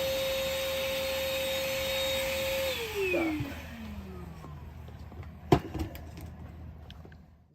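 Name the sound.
vacuuming and blowing glued ballast on a garden railroad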